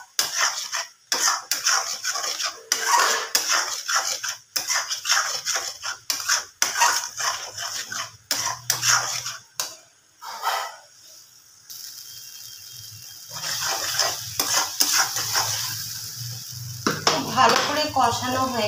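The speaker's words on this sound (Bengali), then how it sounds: "খুব ভালো করে মশলাটাকে কষিয়ে নিতে হবে।" A spoon scrapes and clatters against a pan as egg curry spice paste is stirred and fried, with loud, rapid metallic strokes that ease into a softer sizzle toward the end, and no talking.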